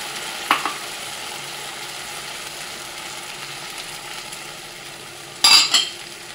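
Onion, ginger, garlic and spice paste fries in a pan with a steady low sizzle, broken by two brief sharp metallic clanks of a utensil against the pan.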